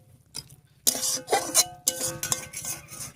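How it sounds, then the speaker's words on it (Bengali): Banana tree stem curry with chicken broth being stirred in a pan, with a string of close metal clinks and scrapes from a spoon against the cookware, coming in uneven bursts and no talk. "মাংসের ঝোলটা দিয়ে খুব ভালো করে মিশিয়ে নিয়েছি।"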